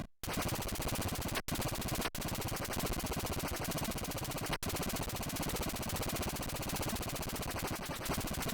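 Rapid electronic shots from the Atari 2600 game Atlantis fire in a relentless buzzing stream, loud and unbroken apart from a few split-second gaps.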